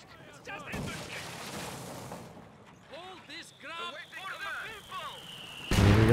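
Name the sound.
mortar and machine gun fire in a video game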